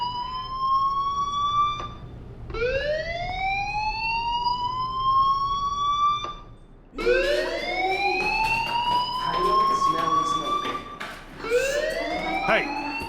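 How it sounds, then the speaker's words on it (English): In the video game Life Is Strange, a fire alarm wails loudly in repeated rising electronic sweeps, one after another, with a brief pause before louder, denser cycles that overlap in a busy, echoing space. "Hey, do you hear that fire alarm?"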